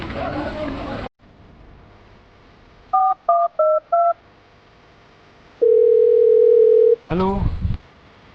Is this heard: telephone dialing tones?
yes